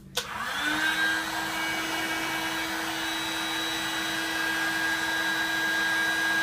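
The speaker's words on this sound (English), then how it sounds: "we're going to blast them with the heat gun" A heat gun blows hot air onto heat shrink over solder points, starting abruptly and settling into a steady, close, loud whooshing roar with a constant motor hum running throughout.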